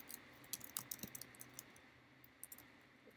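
Labels typed on a computer keyboard in a quiet room, a quick run of close, light key clicks in uneven bursts, with a short pause before a few more taps.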